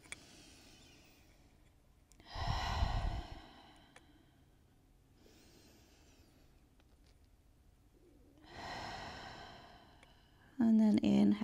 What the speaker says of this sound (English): just take a few really deep breaths coming into that fold